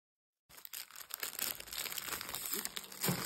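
Plastic packaging from a Temu order crinkles and tears as it is unwrapped, a dense, close, continuous rustle starting after a brief silence and swelling toward the end.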